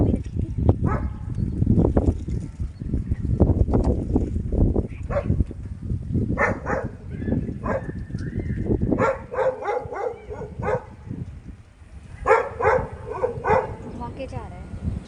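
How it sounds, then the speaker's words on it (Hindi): In Rishikesh, a dog barks repeatedly at a vehicle parked below. Clustered barks grow more frequent toward the end, mixed with people talking nearby. "देखिए अब नीचे गाड़ी खड़ी है तो ये भौंकने पे ही लगा हुआ है।"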